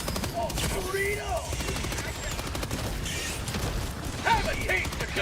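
Rapid gunfire from a weapon in Helldivers 2 rattles on in dense bursts until the magazine runs dry, mechanical clicks among the shots, with game voices and effects mixed underneath.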